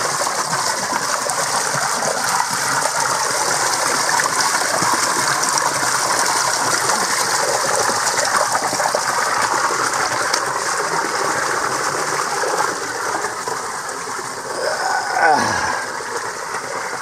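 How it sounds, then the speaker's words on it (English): Steady rushing water pours continuously, a broad even roar that fills the whole stretch without pause, with a brief voice near the end. "I hear a waterfall."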